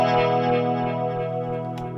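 A 1965 Wurlitzer Spectratone rotating speaker sustains a steady, loud organ-like chord whose warbling swirl gradually quickens, with no voices over it.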